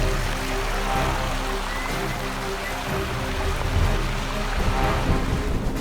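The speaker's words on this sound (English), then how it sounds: "That rain want to go sideways, down, and then up again" Heavy rain driven sideways by wind around a house under renovation, a steady dense wash of noise with low rumbling gusts throughout, fairly loud and continuous.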